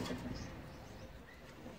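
Slate cock racing pigeon giving a soft, low coo, faint and brief against quiet background noise.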